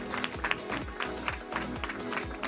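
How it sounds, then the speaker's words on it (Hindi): At a film press conference, an audience claps in irregular bursts over a booming music track, the claps close and uneven. "जोरदार तालियां हो जाए"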